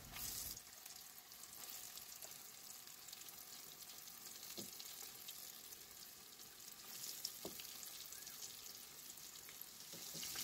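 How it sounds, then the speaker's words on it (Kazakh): Fish cutlets fry in a hot pan with a continuous, soft sizzle and a few faint pops and clicks, heard alone at a modest distance. "Қызып тұрған табаға котлеттерімізді салып, қызарғанша дейін қуырып шығамыз."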